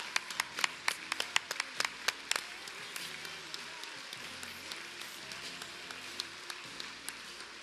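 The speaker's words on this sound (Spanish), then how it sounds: "creo que merece un gran aplauso a este maestro que es Guillermo Coria" Scattered audience applause honoring tennis legend Guillermo Coria, with sharp individual claps standing out over a thinner spread of clapping that gradually becomes sparser and fainter.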